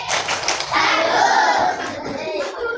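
Several people clap their hands together briefly, mixed with a sustained vocal tone and some shuffling.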